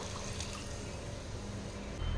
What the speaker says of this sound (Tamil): மிக்சி ஜார் கழுவிட்டு அந்த தண்ணி ஒரு ஒரு டம்ளர் வச்சுருக்கேங்க இதுவும் சேர்த்திக்கலாம்